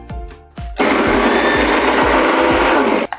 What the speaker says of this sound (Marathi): हे कॉर्न आपण मिक्सरला लावून क्रश करून घ्यायचे आहेत